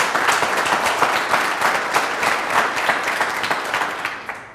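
An audience applauds steadily throughout, a dense wash of many hands clapping at a political presentation about a diaspora movement, fading slightly at the very end.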